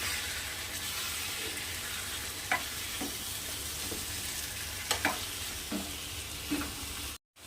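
Tender brinjal curry being stirred in a frying pan, a constant sizzle under repeated spatula scrapes and knocks against the pan, ending in a brief silence.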